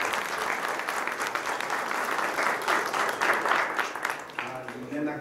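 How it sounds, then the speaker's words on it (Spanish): A school audience at a student handicraft exhibition gives a student a warm round of applause, dense clapping from many people that stays loud throughout, and a voice speaks near the end as it eases. "vamos a dar un aplauso"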